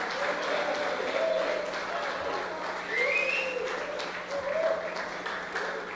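Congregational applause in a church service fills the space steadily throughout, with dense overlapping clapping, a faint hum underneath, and a few voices calling out over the clapping.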